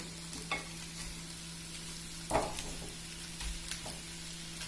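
A fish set down on a bed of garlic and onion sizzles and fries in a pan, with a steady crackle and a few sharper clatters from stirring, close up and no voices.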